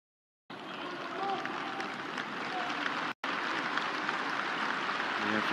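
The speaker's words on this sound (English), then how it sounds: "He's getting a very big round of applause here tonight, and well deserved." A stadium crowd gives a broad, steady round of applause for a substituted player at an Aston Villa v Manchester United U18 FA Youth Cup semi-final. The clapping is sustained and dense, with a brief cut midway.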